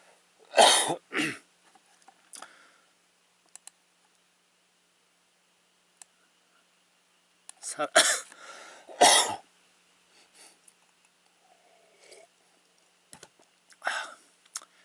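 A few sharp coughs, close and fairly loud, come in separate bursts with quiet gaps between them, along with faint clicks.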